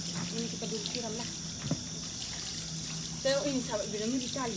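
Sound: pouring water onto plants

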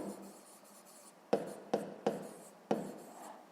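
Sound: writing with pen on paper

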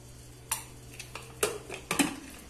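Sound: putting lid on cooking pot

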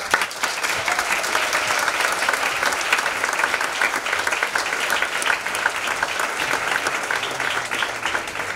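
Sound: audience applause

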